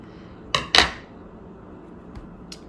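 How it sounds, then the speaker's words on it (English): Scissors snipping through double-wide fabric while making doll straps: two sharp, close cuts in quick succession, followed by a couple of faint clicks in an otherwise quiet room. "And I can cut it in half because I've got a big, it's double wide."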